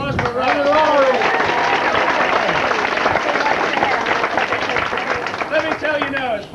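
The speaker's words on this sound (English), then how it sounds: "A big round of applause for Robert." Audience applause and cheering for Robert, a comedic bagpipe player at Epcot Center in 1983, sustained and dense across the whole stretch, with voices calling out over the clapping.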